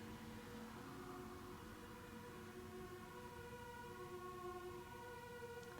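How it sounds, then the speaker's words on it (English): A faint, distant siren wails steadily, like an ambulance going by, with no one speaking. "there's an ambulance running past"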